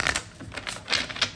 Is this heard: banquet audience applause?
no